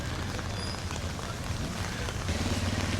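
Heavy rain pours down steadily on a street in Jaffna town, a dense, constant roar of drops hitting surfaces that fills the whole scene without letting up.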